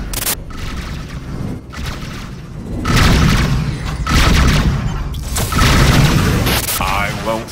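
Heavy booming blasts of incoming missiles striking in the space combat game Rebel Galaxy, several loud rumbling impacts swelling one after another over a dense battle din, with a voice talking through it.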